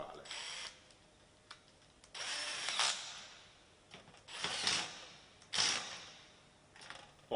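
Electric screwdriver tightening nuts on a kitchen filter cover, several short whirring bursts with quiet gaps, faint and close.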